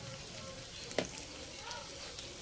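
A large shrimp okoy fritter, just flipped, frying in oil with a faint, steady hiss and one brief clunk near the start.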